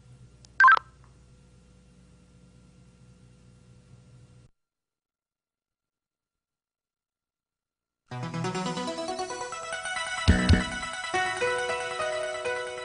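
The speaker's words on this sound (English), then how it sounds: "Using the keypad, enter the ID of the person you want to contact." Keypad tones on a MOTOTRBO digital two-way radio: a brief beep, a pause of near silence, then a run of electronic tones rising in pitch, fairly faint and with no talking.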